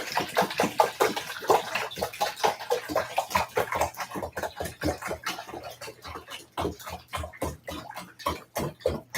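Nutrient-mixed water is poured into a transparent hydroponic system, a series of rhythmic glugs and splashes repeating close by, with no talking.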